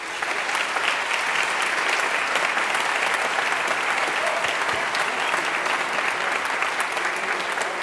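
Sustained, dense applause from the audience at a Scottish regional brass band championship results ceremony, steady and loud throughout with no talking over it.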